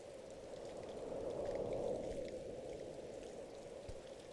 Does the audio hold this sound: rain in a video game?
yes